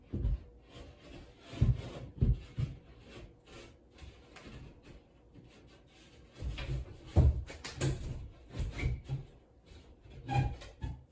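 Shower wall panel being cut to size by hand, giving uneven rasping, scraping strokes in bursts with quieter gaps, fairly close and moderately soft, with no talking.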